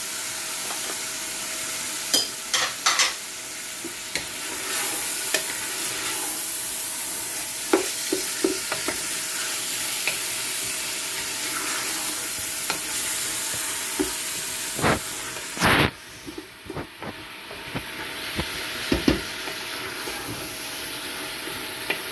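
Chopped tomato sizzles in a frying pan for Kabyle meatballs, with a steady hiss under repeated spoon scrapes and knocks against the pan, some louder clatters spaced irregularly, and no talking.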